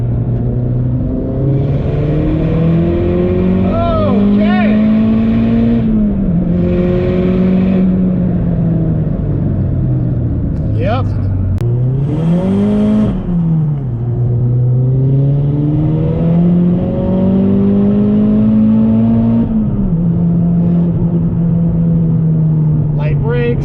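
A Mazdaspeed 3 pulls hard in third gear on track with turbo boost building, engine note rising and falling in long sweeps with whirring spool and occasional chirps, loud and continuous inside the cabin, with a voice talking over it.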